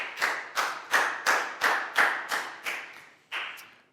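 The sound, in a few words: class applauding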